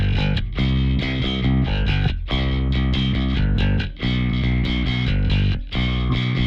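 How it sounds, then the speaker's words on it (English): A distorted Yamaha Broad Bass electric bass, custom modified at the factory, plays sustained, heavy notes with brief pauses between phrases, loud and close with a thick effected tone. "starting with this Yamaha broad bass that they custom modded for me at the factory"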